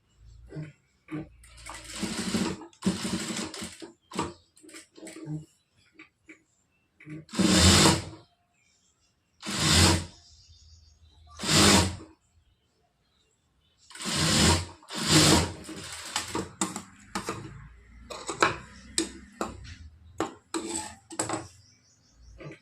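A sewing machine stitches a folded hook-and-eye strip onto a blouse, running in short separate bursts of whirring with quiet pauses between, close up, with occasional faint handling noise.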